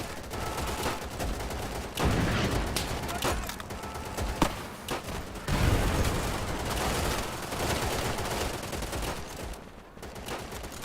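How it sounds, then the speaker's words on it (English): Dense gunfire from the World War II shooter Easy Red 2, with overlapping rifle and machine-gun bursts forming a continuous loud fusillade and heavier shots standing out around the middle. "I don't even see what I'm shooting at."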